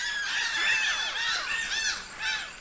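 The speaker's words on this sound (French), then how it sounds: "des oiseaux colorés comme le coq de roche orange vif" Harsh, rasping bird calls repeat in a quick irregular series, several squawks close together with no talking.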